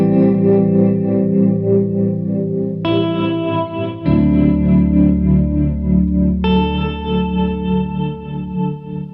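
An electric guitar plays slow ambient chords through a GFI System Skylar reverb pedal set to a high decay of 75%. Long washes of reverb ring out as each new chord swells in, with no talking.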